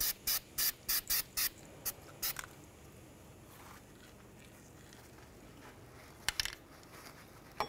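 An aerosol can of anti-seize sprays in a rapid series of short hissing bursts onto a Hyundai Sonata rear wheel hub, close and crisp, followed by quiet and a couple of later spritzes.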